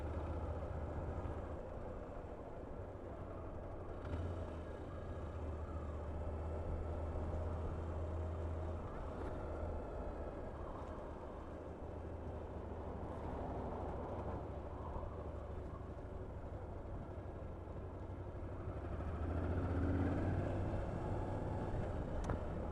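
A Moto Guzzi V11 V-twin motorcycle engine runs at a low, steady idle of about 1500 RPM while riding through town, a faint continuous rumble blended with wind noise, with no speech.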